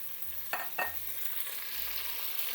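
Beef frying with golden-brown onions in a pan, a soft steady sizzle broken by two short scraping stirs near the start, heard up close with no voices.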